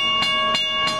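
An M7 train rolls by at night at Little Neck, steady and loud, with strong tonal hums and three evenly spaced rhythmic bursts like wheels passing rail joints.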